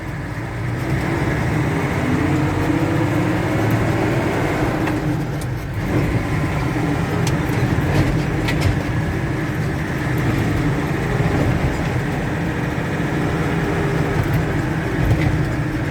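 A Mercedes-Benz LA328 truck with leaf springs and no shock absorbers drives over a bumpy road, its loud, close engine roar and rattling chassis forming a continuous heavy rumble.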